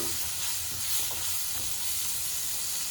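Tomatoes sizzling and frying in masala in a pan for mutton chukka, a steady soft hiss with light stirring, fairly faint and without talk.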